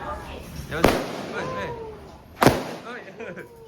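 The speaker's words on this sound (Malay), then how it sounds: "Adik tu bunga api adik." Fireworks go off in two sharp, loud bangs about a second and a half apart, with voices and background chatter continuing underneath.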